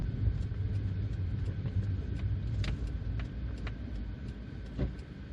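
A 2009 Hyundai i10 1.2 Comfort drives on local roads, a steady low cabin rumble of engine and tyres with a few faint clicks and knocks from inside the car.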